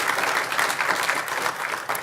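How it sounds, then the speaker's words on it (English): An audience at the Adirondack Climate Conference plenary session gives a steady round of applause for the event's partners, a dense, even wash of many hands clapping throughout with no talk over it. "let's give them a little round of applause for helping to make this day possible"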